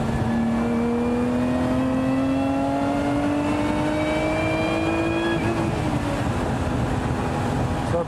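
A Lotus Emira engine revs steadily upward in a rising whine for about five seconds, then hits the rev limiter with an abrupt cutout before the note falls away, heard alone and fairly close.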